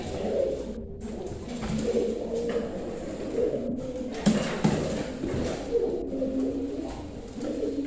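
Pigeons, a local Indonesian kolong breed, coo steadily in low, throaty bursts, several birds overlapping close by with a soft background hum.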